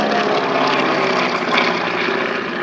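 A propeller-driven aircraft, a version of the AT-11 Kansan, flies past at an air show, its engine droning loud and continuous with a throbbing, broadband roar throughout.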